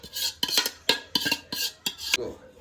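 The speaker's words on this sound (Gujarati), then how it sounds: "આ બધું પહેલાં ચિકન નીચે નાખી દેવાનું, તપેલામાં નીચે" Cooked chicken scraped into a pot as the bottom layer of a chicken dum biryani: a rhythmic series of sharp metal spoon clanks and scrapes against the vessel, roughly eight close, distinct strikes.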